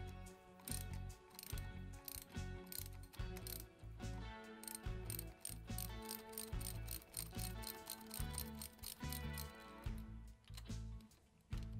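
A cam cover comes off a Harley-Davidson Sportster 883 engine, with close, quiet, rapid mechanical clicking and ratcheting in a busy, irregular rhythm throughout and no speech.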